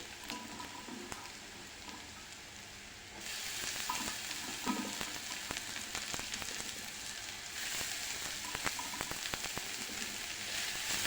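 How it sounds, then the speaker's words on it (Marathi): Chopped tomatoes and onion frying in a pan for a Marathi sukat dish, a steady close sizzle with occasional stirring clicks that turns louder and brighter partway through, with no talk. "टोमॅटो छान परतून घ्यायचं"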